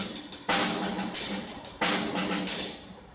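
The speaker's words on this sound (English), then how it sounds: "So I'll play the right hand on my hi-hats and left hand on the snare." A drum kit plays a single paradiddle, right hand ticking on the hi-hats while left-hand snare strokes crack in between, a steady brisk pattern of close, loud hits with no talking, recorded at a drum workshop in Mumbai.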